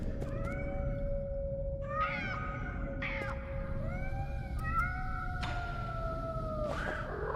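Repeated cat meows in the game Nine Sols, a series of drawn-out mews, some overlapping, over a constant low background hum, no voices.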